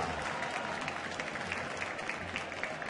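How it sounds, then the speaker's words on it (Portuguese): Santos supporters in a football stadium applaud a near miss during a 2013 Brasileirão match against Internacional, a broad, continuous wash of crowd clapping that stays even and full throughout. "Recebe aplausos da torcida Santista."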